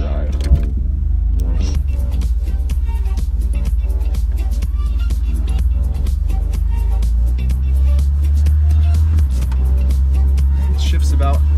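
A grey-market Mercedes W124 driven slowly around a lot, a loud, steady low engine drone and cabin rumble from inside the car throughout, with a voice talking over it.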